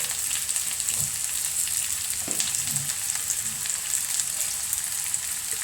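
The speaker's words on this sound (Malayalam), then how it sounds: "സവോള ഇട്ട് കൊടുക്കാം." Sliced onions hit hot coconut oil in a pan, giving a continuous close crackling sizzle with scattered pops and light stirring scrapes, no voices.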